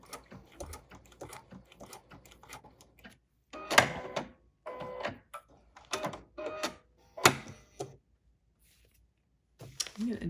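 A sewing machine stitches a bunny applique in short start-stop bursts of rapid mechanical clatter, close and moderately loud, separated by quiet pauses; a voice speaks briefly between runs.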